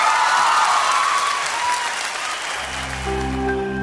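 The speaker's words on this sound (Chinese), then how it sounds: "咱们也敢给她最热烈的掌声" A dense, steady wave of audience applause fills a televised singing competition for student singer Jiahui, then thins out as soft music begins underneath.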